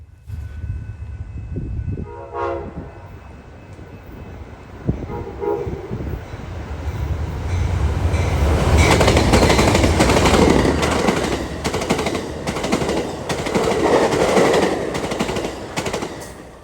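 An Amtrak passenger train led by a pair of P-42 locomotives passes at Downer's Grove, with horn blasts at the start, then a loud, building roar and rhythmic clatter of wheels over rail joints as the cars go by.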